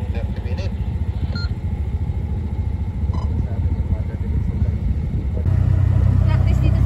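A motorcycle engine rumbles steadily at close range at night in a Manila memorial park, then swells louder near the end, with people talking over it.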